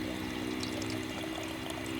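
Water pours steadily from a drinking fountain with a dog bowl filler in a Florida park, a soft continuous flow heard fairly close and alone.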